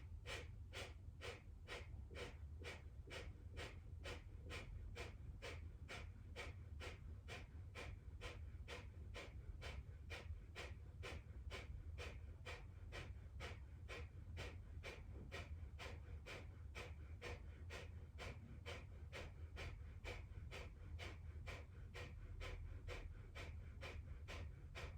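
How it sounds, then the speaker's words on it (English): Rapid, rhythmic breath-of-fire pumping breaths during a Kundalini yoga ego eradicator pose, steady forceful exhales repeating evenly about twice a second, close and alone. "begin the breath of fire here"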